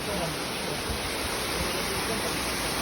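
Tamaraw Falls in Mindoro roars steadily, a loud, unbroken wash of cascading water that fills the whole scene at close range.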